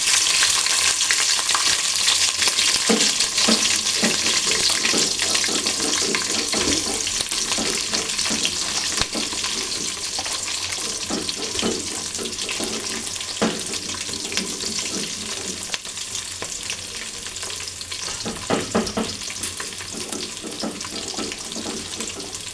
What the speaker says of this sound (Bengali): আমি এখন পেঁয়াজ মরিচ রসুন ছেড়ে দেব